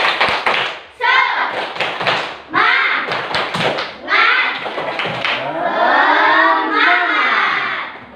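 A school class claps in a rhythmic spirit-clap pattern, loud and close, with chanting voices carried along with the steady beat of the claps.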